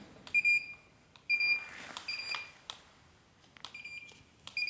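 A clock tester device emits repeated short electronic beeps, bright and close, in irregular bursts with brief gaps between them and faint handling noise underneath.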